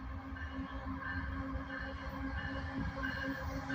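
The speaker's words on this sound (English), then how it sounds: "northbound coal train coming out of Tennessee, goes to Atlanta" A northbound coal train rolls past in Abbeville, a faint, steady low rumble with a sustained droning hum and metallic tonal whine from the wheels, continuous and distant.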